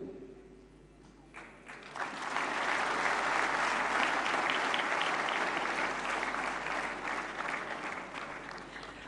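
Loud, sustained applause from a large audience at the Dadasaheb Phalke Award ceremony, swelling after a quiet start and holding steady for several seconds before easing slightly.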